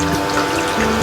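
Water runs steadily from a battery-powered faucet into a toy kitchen sink, a continuous close trickle with a faint motor hum beneath, no voices.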